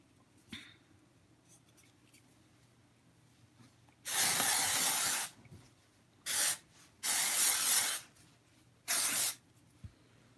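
Four loud bursts of aerosol spray, hissing sharply against a quiet room, the first longest and the rest shorter with pauses between.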